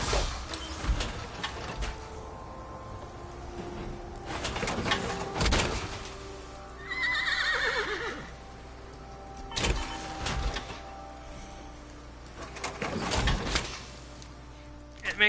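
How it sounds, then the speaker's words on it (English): Horse whinny from a power armor mod in Fallout 4, a short rising and falling neigh in the middle, set among mechanical whirs, clunks and thumps of the armor being entered, at moderate loudness. "It makes a horse whinnying sound when you get into it."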